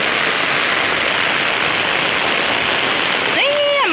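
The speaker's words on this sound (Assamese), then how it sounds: "কিমান বতাহ একদম পুৰা বতাহ বৰষুণ একদম পুৰা দিছে" Heavy rain and strong wind in a storm roar as a loud, dense, continuous wash of noise, with a brief tonal sweep near the end.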